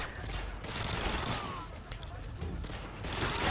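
Dual Uzis in the Modern Warfare 2 video game fire a dense, continuous burst of rapid automatic gunfire, with other battle noise around it and a voice talking underneath.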